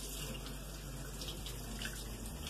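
Cold tap water runs steadily over cooked sushi rice being rinsed in a kitchen sink, a continuous close splashing hiss with no talking.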